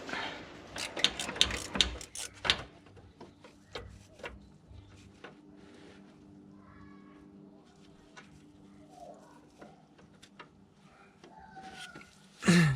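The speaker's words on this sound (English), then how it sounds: "So you can get to the bolt on the cooler from the top here with some extensions. So I'm just going to unscrew it up." A ratchet wrench on socket extensions clicks in quick bursts while unscrewing a bolt on the cooler of a Land Rover Discovery 3 LR3, up close with faint mechanical clatter and quiet gaps between strokes.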